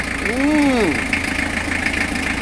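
A 100-year-old truck engine runs steadily just after being started with WD40 and lighter fluid, a close, even idle with a brief rising-and-falling vocal exclamation over it near the start.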